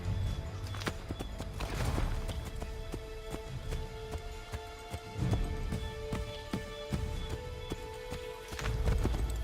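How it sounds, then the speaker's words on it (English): Rhythmic hoofbeats of a galloping horse in Assassin's Creed III thud steadily over a constant droning background, with heavy low rumbles swelling every few seconds. "Get back on the horse, Connor."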